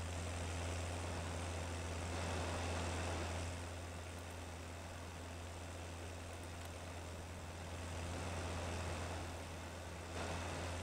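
A tractor engine drones steadily while baling straw in Farming Simulator 19, a low, even rumble that swells slightly and eases back over the stretch, with no speech.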